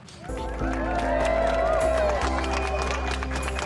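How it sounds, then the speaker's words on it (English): A wedding crowd in a gym cheers and claps in a brief, muted burst. A voice speaks over the noise, and a steady low hum runs underneath. "That cheer was actually quite underwhelming"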